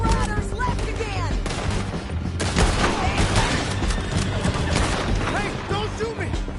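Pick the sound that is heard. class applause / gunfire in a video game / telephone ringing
gunfire in a video game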